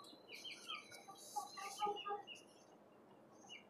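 Caged chickens on a rooftop farm cluck and chirp nearby in short, uneven bursts that build to a busier flurry in the middle and then taper off to occasional soft calls.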